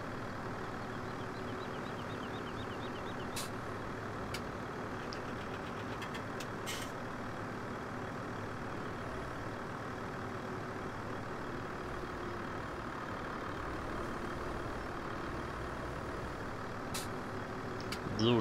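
A huge truck from the farming simulator Landwirtschafts-Simulator 17 rolls through a snowy residential area on winter road duty, its steady engine drone continuous and close throughout, with a few brief sharp hissing bursts over it.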